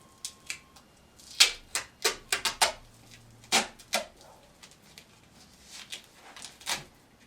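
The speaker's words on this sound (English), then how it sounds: "So you're going to use your duct tape." Duct tape is pulled and pressed onto a homemade foam roller, making a string of sharp crackling rips and taps in uneven clusters, close by, with no one speaking.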